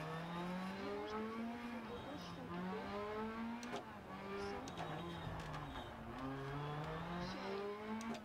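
A Seat Ibiza Kit Car in a rally racing video game screams through repeated rising gear pulls with brief drops at each shift, continuous and loud, while a voice talks over it.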